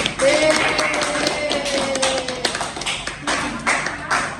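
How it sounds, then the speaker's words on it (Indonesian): A classroom audience claps for Bu Sri during a microteaching lesson, a dense patter of hand claps lasting throughout, with a faint voice tone drifting under it. "Boleh tepuk tangannya Bu Sri"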